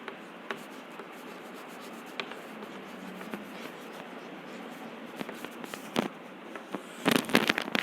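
Writing on a board during a class on metals and non-metals, a steady run of light scratchy strokes and taps that grows busier and louder near the end, with no talk over it.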